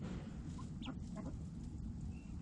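Chickens clucking softly on a farm, a few short, faint calls scattered over a steady low rumble of background noise.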